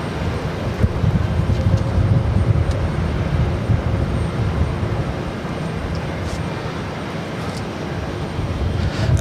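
An Air France Airbus A340-600 arriving from Paris lands at Boston Logan, heard as a steady, broad, low jet roar from a distance, holding even throughout with little change in loudness.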